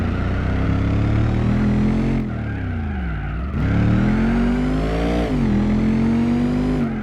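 Modded engine sounds from the video game Gran Turismo 4: a loud, continuous engine drone rising and dipping through gear changes, with revs swooping up between shifts.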